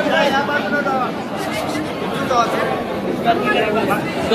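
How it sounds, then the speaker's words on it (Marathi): A jostling crowd presses together at a political meeting, a dense babble of overlapping voices with a few raised calls standing out close by. "गर्दी"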